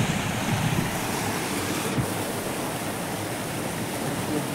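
Water pours steadily out of a rice paddy field in the early morning, a continuous broadband rushing and splashing that stays close and fairly loud with no voices.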